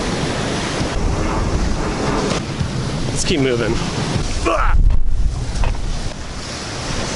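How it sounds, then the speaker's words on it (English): Ocean waves break on a Kenyan shore as a loud, continuous rushing surf, buffeted by heavy wind noise on the microphone, while a person speaks briefly over it. "I love the waves."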